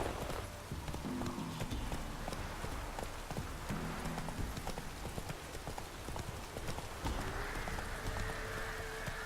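Roach, a horse in The Witcher 3, gallops with fast, steady clip-clop hoofbeats throughout, close and even, with brief snorts and occasional game sounds layered in.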